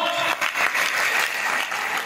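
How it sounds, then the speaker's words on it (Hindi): An audience at a Vestige business gathering bursts into loud, continuous applause, a dense wash of clapping that holds steady throughout. "वेस्टीज के लिए जोरदार तालियां एक बार हो सकती है?"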